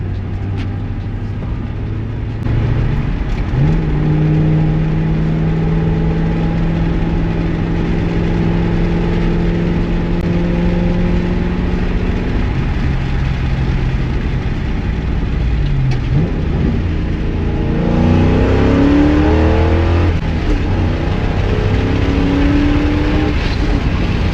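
A Ford Mustang GT V8 with a new cold air intake accelerates, rising and falling in pitch as it revs through gears, loud and close with a rough low rumble throughout.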